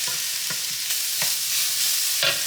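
Turkey and squash sizzle steadily in a pan with a loud, continuous frying hiss, broken by a few sharp clicks and scrapes as the food is stirred.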